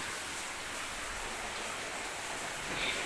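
Rain falls steadily into a house courtyard, a soft, even hiss of drops close by, heard alone without any voices.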